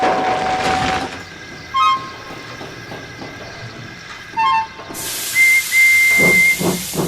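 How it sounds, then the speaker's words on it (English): A steam train lets out loud hissing steam with brief whistle tones, then a long sustained whistle blast over rhythmic chuffing. "So once the whistle blew"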